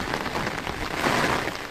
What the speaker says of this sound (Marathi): काय जोरदार पाऊस हा